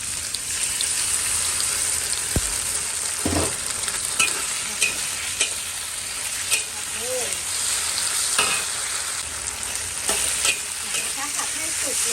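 Pork sizzling and being stir-fried with sauce in a pan, for a Thai dish of pork with garlic stems and leeks, steady hiss with scattered spatula scrapes and clinks, close and continuous.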